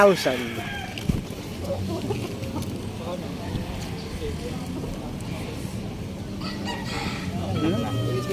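Chickens at a poultry farm in Padre Garcia, Batangas cluck and squawk intermittently, close by, under near-constant conversation.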